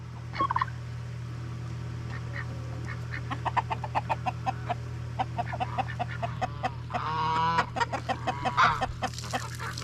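Turkeys gobble and chickens and roosters cluck in short bursts around a farmyard, with a loud gobbling flurry near the end over a steady low hum.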